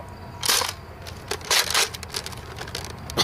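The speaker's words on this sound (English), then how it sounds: "now we're shooting the Recon with normal elite darts. Starting off with flat shots" A Nerf N-Strike Recon CS-6 blaster fires elite darts, sharp close bursts of a spring plunger release with clicking and rattling of the plastic mechanism between shots, no talking.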